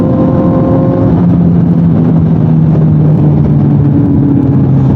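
A motorcycle rides along a road near Lemery, Batangas, its engine holding a steady, loud hum through the whole stretch, with continuous road and wind rumble and no talking.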